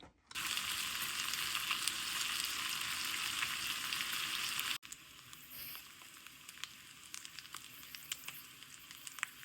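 Homemade bacon sizzles in a hot pan, a steady dense crackle that runs loud and close for about five seconds, then drops to a quieter, sparser spitting and popping.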